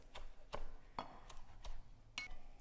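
A knife chops through rolled-up beet greens on a cutting board, cutting them into chiffonade ribbons with about six sharp, separate knocks at an uneven pace. The sound is close and clear, with no talking.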